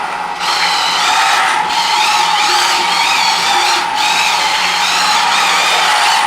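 A cheap RC drift car drifting, its small electric motor giving a steady high whine that rises and falls slightly as it slides, close and continuous with no talk.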